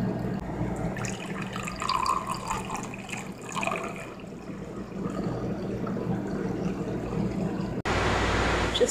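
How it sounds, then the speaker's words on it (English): Water runs from a newly installed kitchen faucet in a soft, steady splash that grows suddenly louder and brighter near the end as the flow increases. "Just have to show you this new faucet Tyler put in for me."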